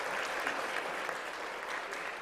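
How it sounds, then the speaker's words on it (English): An audience claps at a holiday luncheon, a continuous, fairly faint patter of hands that stays even for the whole two seconds. "give a round of applause to our great servers who are serving us lunch today"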